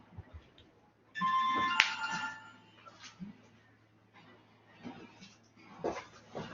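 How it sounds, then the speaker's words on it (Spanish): A mobile phone ringtone chimes once in a short melodic burst, fairly faint and in the background of a quiet room, followed by scattered soft noises. "Por ahí anda sonando mi teléfono"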